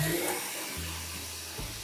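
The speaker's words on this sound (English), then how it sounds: "So we're gonna whisk this until it's white and fluffy and stiff." A stand mixer whisks egg yolks and sugar for tiramisu, a steady motor whir with a few shifts in pitch, fairly quiet and heard alone.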